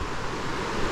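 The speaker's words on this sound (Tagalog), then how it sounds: "Yung tunog ng ilog, naririnig ko na." A steady broadband rush of flowing water, even and continuous with no breaks, like a river heard nearby.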